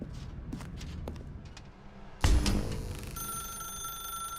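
A telephone rings in the video game The Stanley Parable, beginning with a sudden loud burst and then settling into a steady, sustained electronic ring after soft footsteps.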